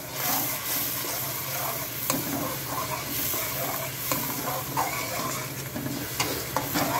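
Mixed vegetables with ground red chili and turmeric are stirred and roasted in a pan: a steady close sizzle with a constant frying hiss, broken by scraping spoon strokes every second or so.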